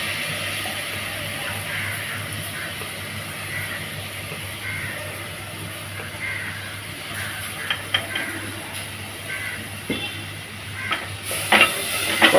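Rice and lentils briefly sautéed in a pressure cooker for rasam rice, a low continuous sizzle with occasional scraping stirs and clinks becoming louder near the end.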